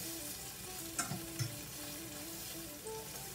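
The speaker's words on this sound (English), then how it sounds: "I'm not frying them per se. I'm just sauteing them down" Onions sizzle steadily in a hot pan, a constant crackling hiss with a couple of brief stirring clinks, no voices.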